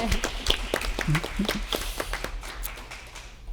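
Scattered, uneven hand claps from a small audience at a city council meeting, honoring science fair winners, with sharp separate slaps over a low hum that thin out toward the end.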